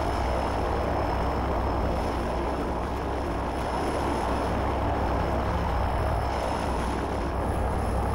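An airplane engine drones in a Left 4 Dead 2 custom campaign, a loud, steady, dense roar with a low rumble that holds evenly for the whole stretch without pause.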